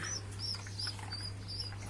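High, thin chirps of pigeon chicks being fed repeat in short bursts over a steady low hum, several small calls spaced across the clip.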